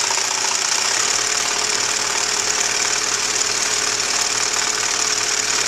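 A sewing machine stitching fabric steadily, its fast, even mechanical chatter running loud and continuous with no pauses or voices.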